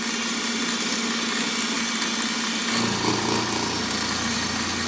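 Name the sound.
end mill cutting metal on a milling machine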